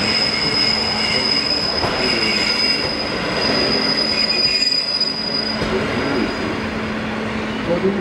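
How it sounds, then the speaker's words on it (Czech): A passenger train rolls in at Lysá nad Labem station with loud, sustained wheel squeal and rumbling carriages, a high metallic whine persisting throughout. "Osobní vlak číslo 5834 společnosti České ze směru Kolín přijel k nástupišti číslo 2"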